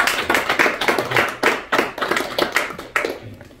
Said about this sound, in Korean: 한번 박수로 맞이하죠